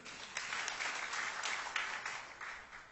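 Congregation applauding inside a church during a sermon, a steady wash of moderately distant clapping that holds evenly for the whole stretch.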